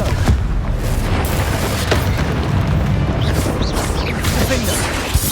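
In the Hogwarts Legacy video game, a Confringo fire spell sets off loud booming explosions over a dense, continuous rumble of combat noise, with a voice briefly heard in the mix.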